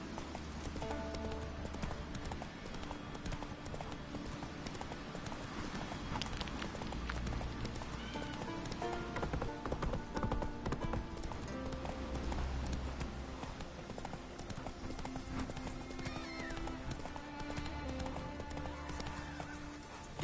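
Horse hooves gallop continuously in The Witcher 3, a rolling clip-clop under a dense wash of game music and ambience that lasts the whole stretch.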